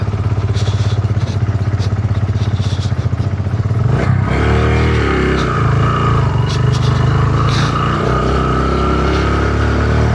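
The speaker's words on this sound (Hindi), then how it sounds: "बाइक बहुत ज़ोर ले रही है चढ़ने के लिए" An off-road motorcycle strains up a steep mountain track in the Phalkot Valley near Abbottabad, its engine droning steadily and then revving harder and rising in pitch partway through, with a loud, close, continuous roar.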